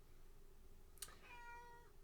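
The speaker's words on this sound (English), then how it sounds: "I got other cats bugging me." A cat gives a single short, rising meow just after a soft click, close by and clear over a steady low background hum.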